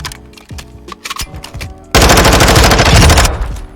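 Automatic gunfire in Call of Duty Warzone: a few scattered shots and clicks, then a loud, sustained burst of rapid machine-gun fire for about two seconds that tapers off at the end.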